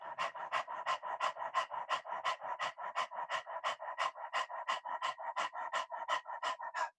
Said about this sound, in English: more like dog panting